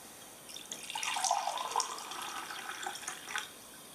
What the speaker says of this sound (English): Then I'm going to measure out 2 cups of water. Filtered water is always best.